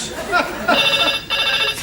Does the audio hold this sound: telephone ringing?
yes